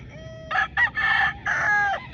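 A young gamefowl stag of Gilmore and Paulo Malbar bloodline crows loudly and close by, one full multi-part crow with a clear, strained ending, over low background noise.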